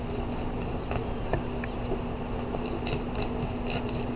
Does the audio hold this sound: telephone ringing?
no